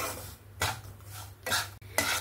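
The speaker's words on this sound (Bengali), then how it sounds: "সুজিটা এখানে আমি নাড়াচাড়া করে সুন্দরভাবে ভেজে নিয়েছি" Semolina is stirred as it fries in a pan over low heat, with three or four distinct scraping strokes of a spoon against the pan and a soft, faint sizzle between them.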